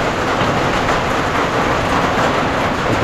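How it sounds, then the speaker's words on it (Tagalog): Heavy rain pours onto a tin roof in a dense, steady, loud roar with constant dripping and pattering throughout and no talking. "Ito yung tulo sa yero"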